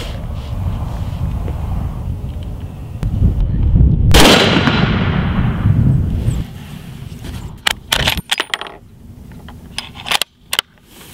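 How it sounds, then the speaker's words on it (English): A Mossberg ATR 100 bolt-action rifle in .270 fires outdoors, with one loud blast and a trailing echo followed by sharper reports and clicks. "We'll shoot a three round group."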